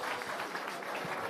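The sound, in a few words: audience applause for startups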